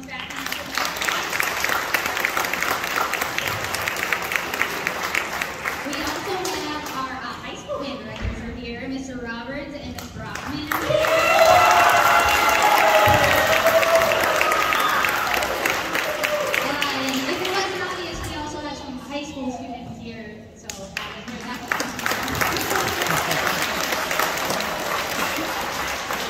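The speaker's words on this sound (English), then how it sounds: "Everybody give a round of applause to Ms." An audience applauds at an intermediate school band spring concert. Someone speaks into a microphone before and after a swelling burst of clapping in the middle.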